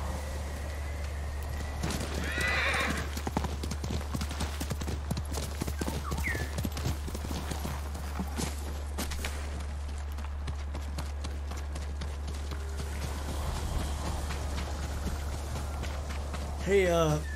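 Steady clip-clop of a horse's hooves at a quick pace, with a low constant hum beneath and a brief whinny near the end, from the video game Ghost of Tsushima.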